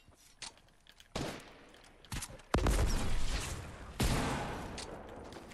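Gunfire in Fortnite, with a few scattered shots followed by loud bursts of close, rapid reports that ring out and decay, separated by short pauses.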